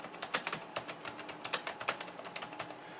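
Typing at normal speed on a keyboard with Cherry MX Black silent 60cN switches, a quiet, steady stream of soft, muted keystroke clicks, close and with no other sounds.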